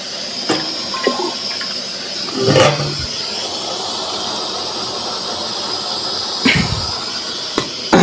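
Water rushes loudly and steadily into a container, a continuous gushing fill close by with a couple of short clunks.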